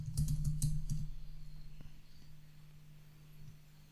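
Typing a password on a computer keyboard while setting up a Windows 10 account: a quick burst of close keystrokes in the first second, then quiet room tone with a faint later click.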